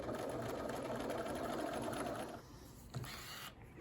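A sewing machine stitches fabric circles with a steady, fast mechanical whir that runs close and loud for over two seconds, then stops, leaving quieter handling sounds and a brief knock.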